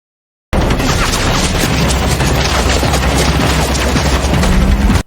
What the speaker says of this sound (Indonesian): Tembakan pasukan Kang Huyun dilepaskan tanpa kendali